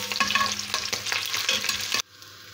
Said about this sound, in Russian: Я его полностью не выжариваю, а сразу добавляю сердце. И они будут жариться одновременно.